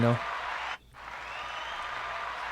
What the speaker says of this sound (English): I could give a little bit of the little ambient noise in the back of the clapping of the crowd